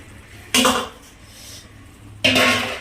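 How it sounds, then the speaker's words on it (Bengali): A spoon stirs fried fritters (bora) in a metal pan, making two sharp scraping clanks about a second and a half apart against a quiet background. "বড়াগুলো একটু নেড়ে দিই"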